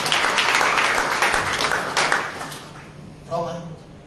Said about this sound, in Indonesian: Tepuk tangan bagi anak kita